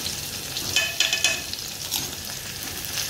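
Ginger-garlic paste sizzles and fries in a pan with tomatoes and turmeric for a prawn curry, a steady hissing crackle with occasional stirring scrapes, close and fairly loud, no talk.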